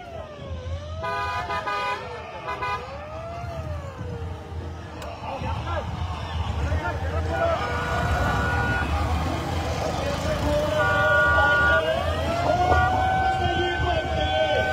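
A convoy of cars at a Maratha community gathering honks repeatedly, with long and short horn blasts sounding over a steady rumble of engines and crowd noise, loud and close, while someone talks throughout.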